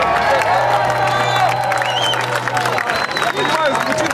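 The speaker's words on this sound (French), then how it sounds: "Applaudissez-le." A tournament audience applauds and cheers a French fighter after his technical victory: loud, steady clapping and crowd noise throughout, with a low hum underneath.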